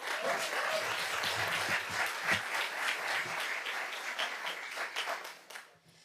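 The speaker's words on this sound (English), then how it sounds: "Please give her a round of applause." An audience at a school board meeting applauds a high school freshman singer; full, steady clapping that thins out and fades near the end.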